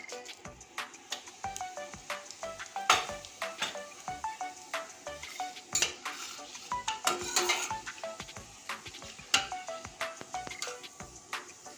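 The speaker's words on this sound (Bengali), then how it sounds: "ফড়নটা আমি লাল করে ভেজে নেব" Cumin seeds sizzle lightly in hot oil as a tempering for chana masala, under frequent close spatula clinks and scrapes against the pan.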